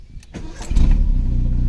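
A VW Gol Quadrado with a CHT engine cranks briefly with a few starter clicks, then catches on the first try and settles into a steady, close, rumbling idle.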